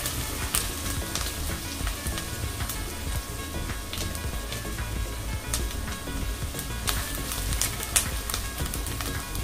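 Onion frying in oil in a cooking pot, a continuous crackling sizzle with scattered sharper pops, moderately loud and steady with no voices.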